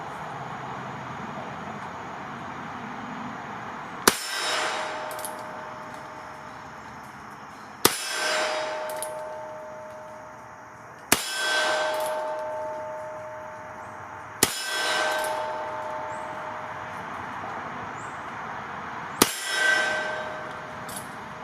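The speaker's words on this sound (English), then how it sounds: "Let's take our first shots here and see where we're hitting." A Heritage Rough Rider revolver fires at a target about 10 yards away, five sharp cracks a few seconds apart, each ending in a metallic ring and echo against a steady outdoor background hum.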